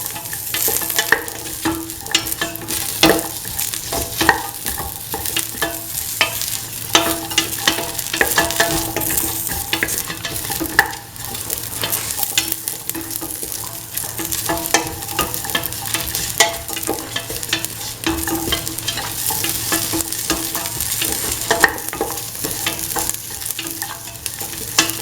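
Shallots and onion sauté in a hot pan, a steady loud sizzle with frequent scraping stirs throughout, and no voices.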